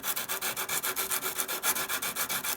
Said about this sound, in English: you're going to be sanding like this to smooth them up.